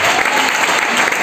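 A church congregation at a youth Christmas gathering claps together in a dense, loud burst of applause filling the hall for a brief moment.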